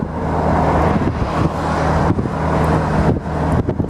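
Mazda MX5 roadster driving with the top down on a Belgian road trip near Bruges and Ypres, a steady loud rush of wind and road noise over a low engine drone.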